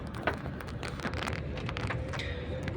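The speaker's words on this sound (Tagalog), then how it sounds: "Dahil biglang bumuhos yung ulan no" Heavy rain suddenly pouring down during a motorbike ride through a subdivision, a dense, steady patter on surfaces with scattered louder drops and a low background rumble, no talking.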